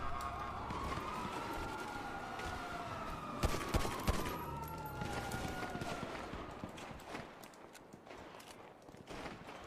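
A police siren from the GTA 5 video game wails and sweeps up and down at middling distance, with bursts of gunfire and clatter under it.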